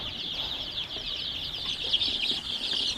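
Many young chicks on a farm peeping and clucking together in a dense, continuous high-pitched chatter, with occasional wing flutters close by.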